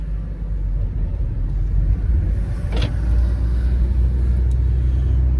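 A Vauxhall Corsa rolls along with a loud, steady low engine and road rumble heard from inside the cabin, windows open, with a brief faint rattle partway through.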